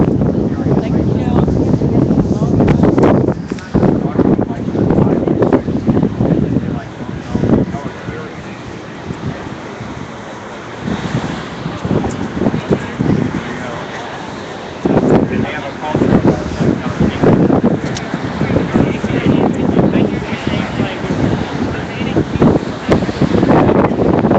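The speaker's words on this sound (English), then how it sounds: "It's very windy." Strong wind buffets a microphone outdoors in the cold at a street protest, a loud, rumbling roar that surges and dips throughout. Voices can be heard under the gusts.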